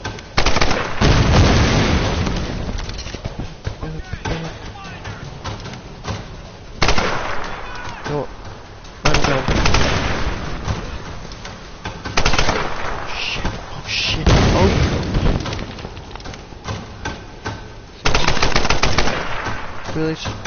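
Heavy gunfire and explosions from the Tomb Raider video game, with sustained bursts of rapid automatic shots and booming blasts recurring throughout, loud and dense with occasional player talk beneath.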